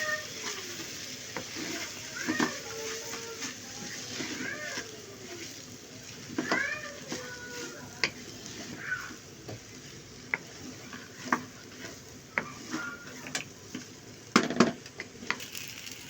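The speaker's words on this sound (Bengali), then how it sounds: "এই সাউন্ডটা যখন আপনারা পাবেন তখনই বুঝবেন যে চালটা আমাদের কিন্তু ভাজা হয়ে যাচ্ছে" Rice and lentils fry in a pan while being stirred, a soft dry rustling sizzle with scattered scraping clicks from the spoon, fairly quiet and close, with faint voice-like sounds in the background.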